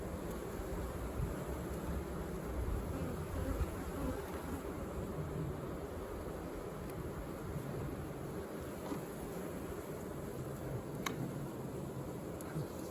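Honeybees drone steadily around an open brood frame lifted from a hive during a walk-away split, a dense close buzz that holds evenly throughout with faint outdoor background and no talking.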